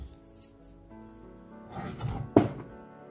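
Ingredients mixed in a bowl while preparing dough for fish-stuffed bread: quiet scraping and stirring that builds, then one sharp clink of utensil on the bowl near the end.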